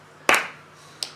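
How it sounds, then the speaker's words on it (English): Children clapping their hands in a class, a short burst of claps followed by a single softer clap, close and fairly loud, with no talking. "Everybody, clap your hands."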